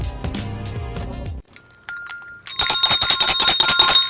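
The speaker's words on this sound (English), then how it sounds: "And the bells are ringing" Bright electronic bell chimes ring out alone after a lower musical passage, a few separate dings followed by a dense run of rapid ringing tones, loud and close.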